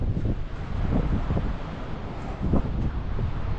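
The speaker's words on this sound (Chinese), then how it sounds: "哇，好大风啊！" Strong wind buffets the microphone outdoors beside a camper van with fold-out solar panels on a mountain highway, a continuous loud roar with heavier gusts throughout.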